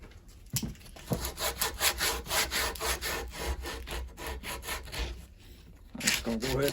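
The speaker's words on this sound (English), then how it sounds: "I'm just gonna go ahead and bevel that edge while we're at it." Rhythmic back-and-forth scraping strokes of a tool on wood bevel the edge of a cant hook under restoration, steady and close for several seconds, with a brief lull before the strokes resume.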